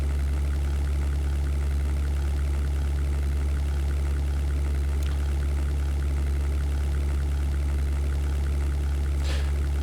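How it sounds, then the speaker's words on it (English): A WWII Luftwaffe fighter's engine drones in the 1998 flight sim European Air War, a steady, low, unbroken hum with no voices over it. "It's so strange to hear your engine only from your left ear."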